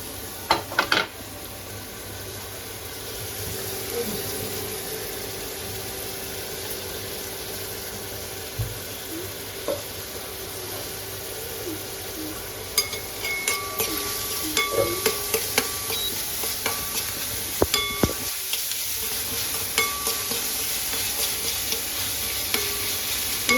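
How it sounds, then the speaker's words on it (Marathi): Onion and salt sizzle in hot oil in a pan while a spoon stirs and scrapes through them, a steady close frying hiss broken by clinks and scraping strokes, busier toward the end. "तेल टाकल्यानंतर आपण टाकूया कांदा, टाकूया कांद्यासोबतच आपल्याला हे मीठ टाकायचं"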